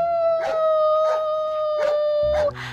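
A male dog howls in a long, loud, sustained tone with a few slight rises along the way, then it trails off and a short, lower noise is heard at the end.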